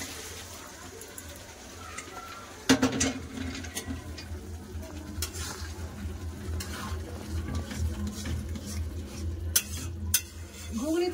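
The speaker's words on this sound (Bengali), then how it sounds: "এবার সিদ্ধ করা রাখা মটর আর আলুটা দিয়ে দেবো।" Boiled peas and potatoes dropped into fried spice paste for ghugni, with a sharp clatter, then continuous close stirring and scraping in the pot over a low sizzle.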